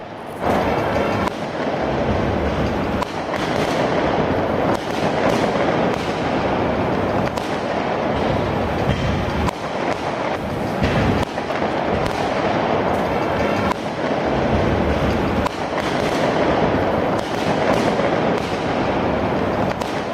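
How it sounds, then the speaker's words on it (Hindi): Fireworks and firecrackers burst in a celebration in India, a loud, dense, continuous barrage of crackling pops and booms running without pause across twenty seconds with no voices. "आतिशबाजी हो रही थी, लोग पटाखे फोड़ रहे थे"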